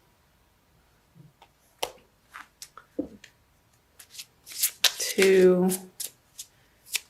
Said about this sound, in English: I'm going to pull a crystal card for you from Judy Hall's deck using the Crystal Wisdom Healing Oracle.